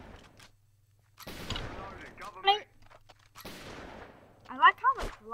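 Gunfire in a Minecraft Hypixel shooting mini game, with a few sharp bursts of shots and block-breaking clatter between stretches of quiet, along with short voiced sounds from players.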